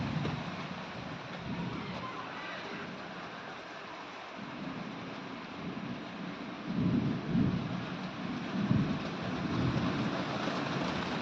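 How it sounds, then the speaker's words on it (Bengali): Rain falling outdoors, a steady, even hiss of drops throughout, with soft low swells of wind or distant rumble growing slightly louder in the second half; no voices. "বৃষ্টি পড়ছে, এসো না।"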